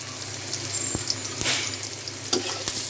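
Onions fry in a pan while being cooked down for a fish curry, giving a steady close sizzle with occasional stirring scrapes.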